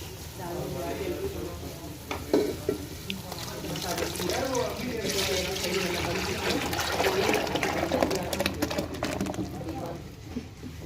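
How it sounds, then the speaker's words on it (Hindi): A yogurt and gram flour mixture splashes into hot fried curry masala in a pan, giving a wet sizzle and liquid pour followed by stirring, with someone talking over it. "अब हम इसमें डाल देंगे दही और बेसन का मिक्सचर।"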